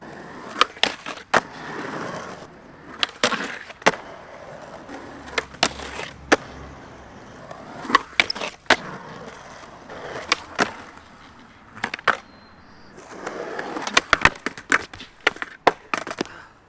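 Skateboard wheels roll over pavement with a steady rumble, broken by sharp clacks and pops of tricks and landings in New Balance Numeric 420 shoes, repeated throughout.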